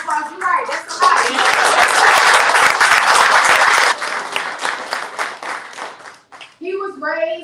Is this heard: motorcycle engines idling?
no